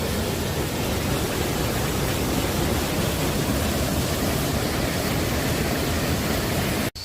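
Wang Morakot waterfall at Khao Chamao in Thailand, a clear emerald-green pool, roars as a steady, dense broadband rush of falling water, loud and close, unbroken until a sudden cut near the end.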